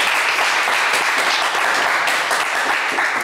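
Studio audience at a television game show applauding loudly, a dense continuous wash of clapping lasting a few seconds without speech.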